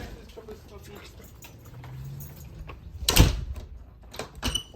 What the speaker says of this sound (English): Make sure you close the door.